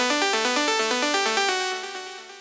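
Diva analog synth patch in a Stranger Things-like 80s style with the filter cutoff opened up, a buzzy, bright arpeggiated line of rapid repeating notes, heard solo and upfront, tapering a little at the end.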